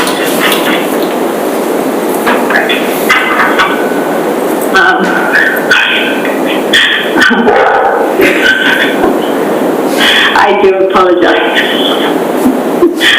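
A dog barks and yips repeatedly in short, sharp bursts with some whimpering, fairly close, during an online design meeting, while a person keeps talking over it.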